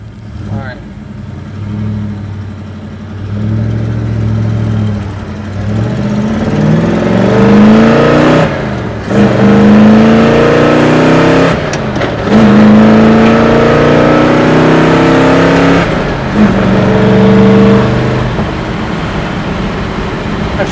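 A manual-shift 1967 Chevrolet Chevelle SS engine revs loudly while driving, climbing through gears in repeated rising sweeps broken by short pauses at each shift.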